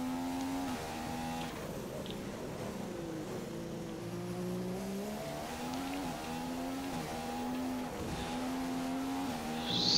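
A Formula 1 car in the F1 2015 racing game at the Australian circuit: a steady, fairly quiet engine whine that rises and drops in pitch through gear changes, alone with no talk.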